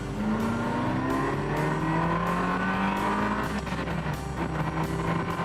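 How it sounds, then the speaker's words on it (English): A Ferrari engine roars steadily from inside the car while driving, its loud tone rising and falling through rev changes and gear shifts for several seconds with no talking. "And just hear the roar of that engine."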